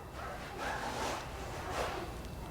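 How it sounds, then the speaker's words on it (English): Puppies whimper and cry at a distance, a faint, steady whine rising twice over a noisy room background. "Even though these dogs are, I don't know if you guys can hear it, they're crying in the background, complaining."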